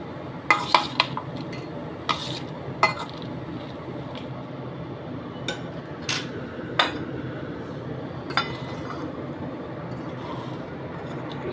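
Puffed rice muri makha being tossed and mixed in a bowl with a spoon, giving scattered clinks and scrapes against the bowl over a steady low rustle, close and moderately loud.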